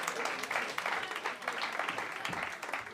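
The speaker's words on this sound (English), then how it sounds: "Give him a huge round of applause." A live comedy show audience gives a comedian a big round of applause as he comes to the stage, a dense, steady wash of clapping that fills the room for the whole stretch.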